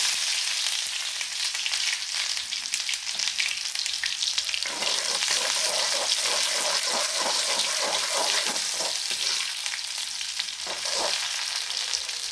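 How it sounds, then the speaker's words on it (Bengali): Dried chillies and chopped onion frying in oil, with a continuous close sizzle that grows busier and crackling once the onion goes in, broken by occasional stirring. "এই শুকনো মরিচটা একটু ভেজে নিতে দিয়ে দিলাম পেঁয়াজ কুচি।"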